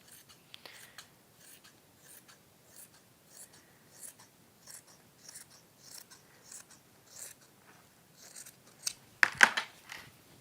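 Scissors trim excess material from a waxed warmer in a craft workshop, a run of soft, close snips at an uneven pace ending in a louder cluster of cuts.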